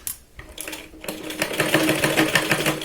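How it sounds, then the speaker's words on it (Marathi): A sewing machine stitches a Katori blouse, starting with a couple of short bursts and then running in a steady, close, rhythmic whir of needle strokes. "मग आपल्याला सरळ इथे शिलाई लावायची"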